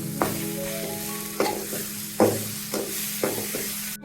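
Snake gourd (chichinga) frying in a pan with a little sugar, stirred with a spatula: steady close sizzle broken by five or six sharp scraping strokes at uneven intervals, with no voices.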